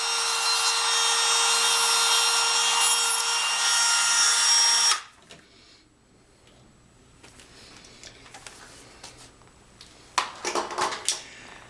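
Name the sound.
Dremel rotary tool flattening a model railroad turnout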